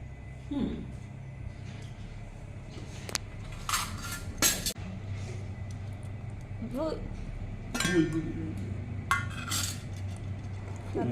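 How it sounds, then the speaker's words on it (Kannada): A knife strikes a plate as a homemade wheat-flour cake is cut, giving a few sharp, scattered clinks and taps close by, with people talking quietly in the background. "ಮನ್ವಿತಾ ಕೇಕ್ ಕಟ್ ಮಾಡ್ತಾ ಇದ್ದಾಳೆ"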